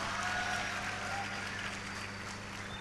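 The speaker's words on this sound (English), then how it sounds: "So give a big round of applause." An audience at a national conference for chartered accountancy students applauds steadily, a soft, even wash of many hands clapping at a moderate distance.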